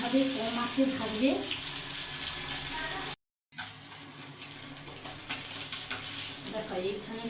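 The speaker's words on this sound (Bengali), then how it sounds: "এইভাবে কম আঁচে ভাজবে।" Rohu fish pieces fry in oil over low heat with a steady, close sizzle and occasional stirring scrapes, broken briefly by a short silent gap midway.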